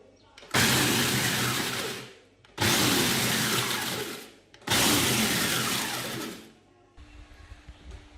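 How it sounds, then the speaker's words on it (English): A countertop blender pulsing cookies into crumbs for a no-bake cheesecake crust: three loud, close bursts of whirring motor and rattling crumbs, each lasting about one and a half seconds with short gaps, then a quieter tail. "Turn it on, and you want to pulse the cookies."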